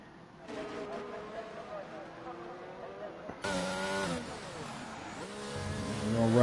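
A race car engine in a racing video game at Baku City Circuit revs and climbs through the gears with rising, sweeping engine tones, heard under steady commentary.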